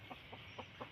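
A chicken clucks in a vegetable garden, four soft evenly spaced clucks in quick succession, faint and somewhat distant over a low background hum.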